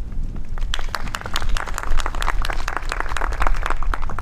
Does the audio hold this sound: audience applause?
yes